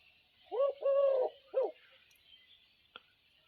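Tame hunting doves cooing close by: a few low, soft hooting coos in two quick groups, then a faint click and near silence.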